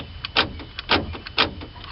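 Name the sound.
2002 Toyota Camry door lock assembly clicking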